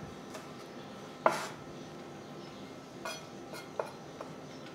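A knife slices cooked green asparagus into small rounds on a cutting board, giving a few sparse, light crisp taps against the wood in a quiet kitchen.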